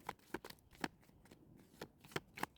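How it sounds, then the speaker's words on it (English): Tarot cards shuffled up close, a run of crisp riffling bursts at an uneven rhythm with brief pauses between, with no talk. "After this shuffle is over, I'm cutting this reading."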